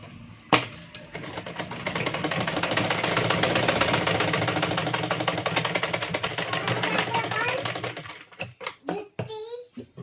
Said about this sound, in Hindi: फिर इस तरीके से इस पे इसकी किनारे पे सिलाई लगा लेंगे